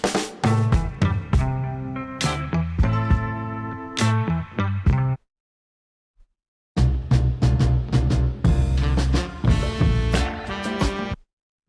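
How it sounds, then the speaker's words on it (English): Dense sampled song snippets play loudly and clearly, full-band music with punchy hits and rich harmonics, broken by a silent gap of about a second and a half before a second sample starts and runs to a stop. "Those are the original samples from that song."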